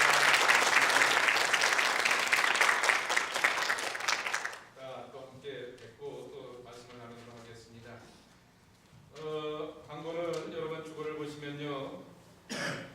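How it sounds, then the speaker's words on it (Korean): Applause from a church congregation welcoming new members at a Sunday service in Toronto, a burst of clapping for about four seconds that cuts off, followed by someone speaking and a cough. "우리 박수로 환영해 주시기 바랍니다"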